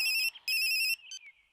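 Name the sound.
mobile phone ringtone, film scene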